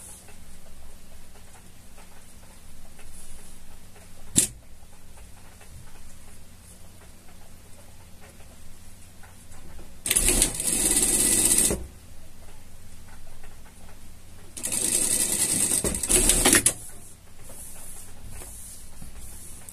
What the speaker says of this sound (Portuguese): e passar uma costura aqui